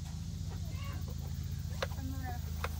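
Backyard chickens clucking nearby in a garden, soft scattered clucks and short calls over a steady low mechanical hum, fairly faint and intermittent.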